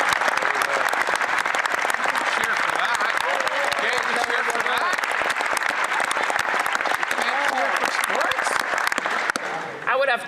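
Sustained applause fills a parliament chamber during an economic update speech, a thick, continuous clapping from many people that holds steady and loud before tapering off near the end, with a voice audible underneath.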